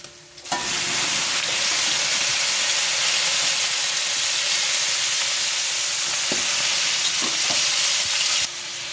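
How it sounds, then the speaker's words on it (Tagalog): Pork ribs dropped into a hot pan with sautéed aromatics for Filipino caldereta give a loud, steady sizzle and hiss from start to finish, with a few stirring clinks partway through. "Lagay na rin natin guys yung pork ribs."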